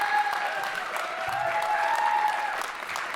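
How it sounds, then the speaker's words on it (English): Audience applause at a jazz festival, a dense steady wash of clapping sustained throughout, with a faint tonal hum running underneath. "Give him a round of applause"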